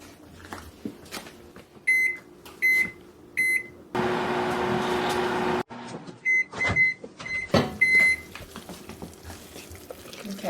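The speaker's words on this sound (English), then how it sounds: "you can keep popping it in the microwave" A microwave oven melting mozzarella and butter for keto ham and cheese pinwheels: keypad beeps, then a steady hum while it runs for a couple of seconds, followed by more beeps and kitchen clatter, fairly quiet and close.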